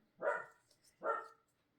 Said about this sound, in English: Who knows what he's barking at